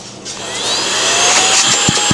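A 4-in-1 blower vacuum runs in a steady, loud, close whine that rises slightly as the motor spins up, with a couple of faint knocks near the end.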